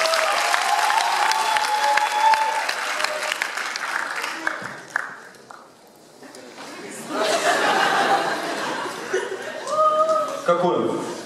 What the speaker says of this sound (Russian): Аплодисменты Константину.